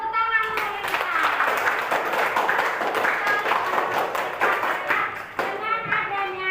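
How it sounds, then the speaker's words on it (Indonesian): A class claps for Lintang, a student, during a school lesson on a class agreement: dense, steady applause from a room of children fills nearly seven seconds, with scattered voices mixed in before it fades near the end. "tepuk tangan untuk Lintang"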